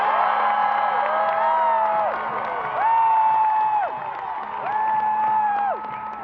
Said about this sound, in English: A standing ovation for Canada's Olympic champions into the loudest rounds of applause for Stephanie LaVey and Christine Sinclair